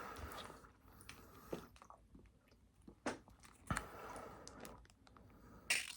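Crisp, close-up chewing of Five Guys regular fries during a mukbang, with soft crunches and wet mastication in an uneven rhythm and a few sharper bites standing out against a quiet background.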